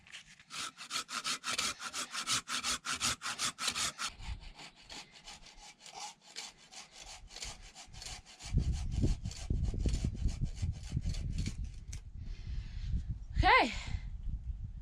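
A hand saw cuts through a stuck pool fitting, with steady back-and-forth strokes in a fast rhythm close by, then a rougher, lower scraping and handling noise.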